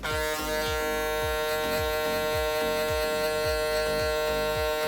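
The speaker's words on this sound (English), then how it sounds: "This is the clipper I choose." Electric hair clipper with its lever fully open, buzzing steadily and close while cutting a guideline for a mid skin taper, with a rhythmic series of short strokes through the hair.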